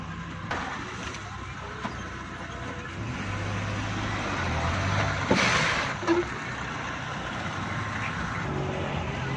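Suzuki Bolan van on the road after a brake repair, a steady low engine drone and road rumble from inside, with a brief louder hiss midway and some faint background voices.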